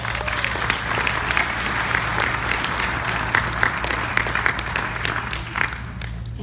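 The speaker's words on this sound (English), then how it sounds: "Let's hear it for Jennifer McDowell." Sustained audience applause at a gospel singing event, many hands clapping steadily throughout, with a low hum underneath and no talking.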